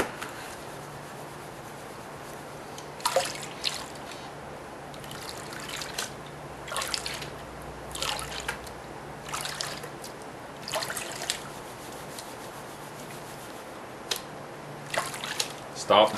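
Water sloshing and splashing in a shallow gold pan shaken in short bursts, with intermittent tapping, scraping and gritty swirls of gravel, close by.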